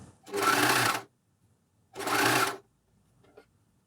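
Two steady bursts from a Juki MCS1500 coverstitch machine sewing elastic onto knickers, each run lasting under a second with a short pause between, then a faint brief click near the end.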